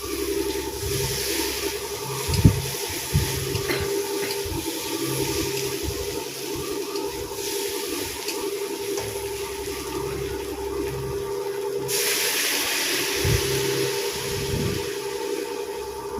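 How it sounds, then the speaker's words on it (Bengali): Water poured into a pan of potato, soya chunk and pointed gourd curry, a steady splashing, running stream that continues throughout at moderate loudness, with no talk over it. "জলটা দিয়ে দিলাম।"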